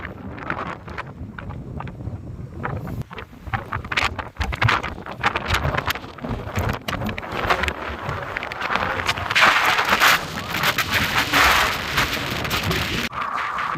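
Gusty, cold wind with mist buffets the microphone at the Abbanur mountain viewpoint in rough, roaring bursts, rising stronger toward the end, with no one speaking.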